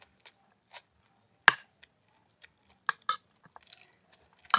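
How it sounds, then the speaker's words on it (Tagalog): Crunchy raw onion is bitten and chewed close up in a quiet room, a few sharp crisp crunches scattered among softer, irregular chewing clicks. "Malutong yung sibuyas."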